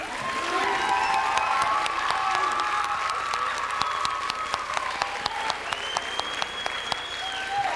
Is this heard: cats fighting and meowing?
no